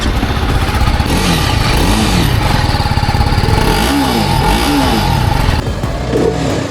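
A TVS Apache RR 310 motorcycle engine runs steadily and loudly nearby, its pitch rising and falling in repeated revs before settling toward the end.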